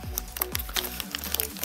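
Plastic packet around a rubber chrome-plated bath plug crinkles as it is handled and unpacked, giving a few close, dry rustling bursts with low thumps of handling.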